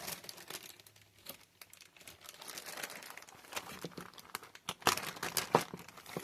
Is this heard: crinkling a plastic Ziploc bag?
yes